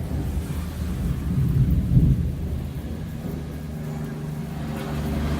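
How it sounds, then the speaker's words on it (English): Thunder from a lightning storm rumbles low and heavy, swelling to a loud peak around two seconds and then fading into a long, steady roll with rain in the background. "that's kind of weird sound of the lightning"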